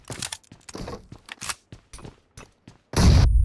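Rapid gunfire bursts in the mobile battle-royale game PUBG Mobile, several sharp separate cracks spread across the clip, then a heavy, loud grenade explosion booming at the end.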